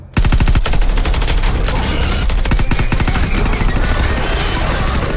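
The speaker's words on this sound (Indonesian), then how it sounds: "Mori dan Daniel pun menembaki mereka" Rapid automatic gunfire as Mori and Daniel shoot at a swarm of attacking alien creatures, a dense continuous burst of loud shots that hammers on without pause throughout.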